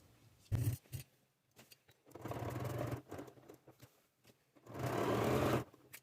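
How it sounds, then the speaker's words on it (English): A sewing machine stitching a quarter-inch seam around fabric for a scissors holder runs in three short bursts of close, whirring stitching separated by quiet pauses, the last burst longest. "I'm going to take this over to the sewing machine. I'm going to sew 1/4 inch around."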